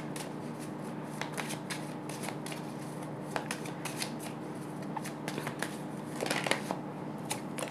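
Tarot cards are gathered and shuffled close up in a quiet room, a run of soft riffling flicks and taps that quickens near the end, with no voice.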